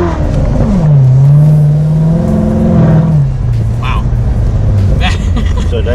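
A Corvette accelerates hard at Sebring, its engine roaring loud and close, the pitch climbing, settling and then sliding lower, with voices underneath.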